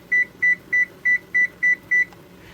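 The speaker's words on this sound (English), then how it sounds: "I'm going to go ahead and put them on a timer" A kitchen timer gives seven short, evenly spaced electronic beeps while elderberries simmer for syrup. The beeps are clear and close over faint room noise.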